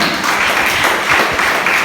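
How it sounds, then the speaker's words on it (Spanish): A church congregation applauds, a dense, even wash of clapping from many hands that holds steady at full strength, close and loud throughout. "Denle un aplauso al Señor."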